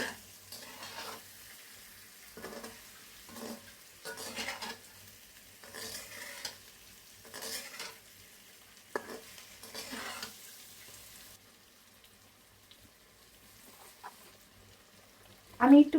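Aair fish frying in spice paste is stirred in repeated short bursts of scraping and sizzling, quiet and intermittent, with pauses between strokes.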